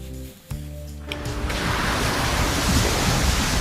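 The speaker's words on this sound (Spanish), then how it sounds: "Se oye agua, ¿eh?" Rushing, surf-like water noise in a Battlefield game scene, starting quietly and swelling to a steady, broad wash after about a second, with faint low tones underneath early on.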